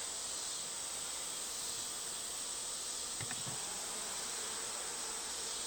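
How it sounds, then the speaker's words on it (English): Steady, dense honeybee buzzing hums throughout from inside a newly swarmed hive as its top is lifted, close and continuous, with a brief faint knock partway through. "we're going to see if the bees are in here"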